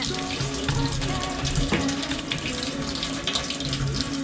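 Hands being washed under a running water tap at a riverside camp in Photharam, Ratchaburi, with a steady, loud close-up gush of water splashing into a sink throughout.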